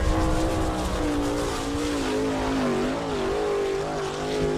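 A sprint race car laps the Attica, Ohio dirt track at an All Star Circuit of Champions event, its engine a loud continuous howl rising and falling through the turns.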